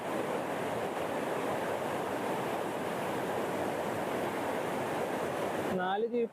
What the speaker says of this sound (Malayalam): ഡാം കുറച്ച് വർഷത്തിന് ശേഷം ഇപ്പോഴാണ് തുറന്നിരിക്കുന്നത്.